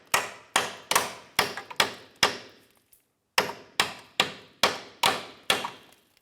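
Hammer strikes driving a bolt into a control arm on a 2005-2007 Ford 500, eleven sharp metallic taps in two quick bursts split by a short pause, close and loud with no talking.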